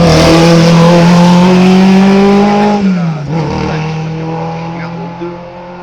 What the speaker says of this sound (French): Oh, c'était des voitures.